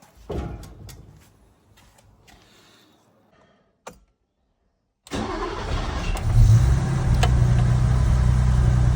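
A BMW E24 635 CSI, just after repair work on its fuel tank, cranks and catches after some quiet handling clicks, then settles into a loud, steady idle with deep rumbling.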